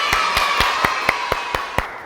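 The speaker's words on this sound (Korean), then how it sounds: "박수 한번 부탁드리겠습니다." About eight slow, evenly spaced claps at a youth science and technology job fair talk concert in 2021, each one crisp and distinct against a quiet room rather than a full wash of applause.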